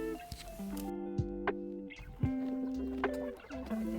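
Chickens cluck and call close by on a farm in Japan, with several overlapping birds making repeated short clucks and a few sharper calls.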